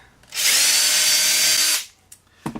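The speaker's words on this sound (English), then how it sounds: "drill all our holes to 9/64 here, all the way across." A power drill whines loudly at a steady pitch for over a second while drilling a 9/64-inch hole in a wooden 2x4, then spins down, followed by a couple of short clicks and knocks.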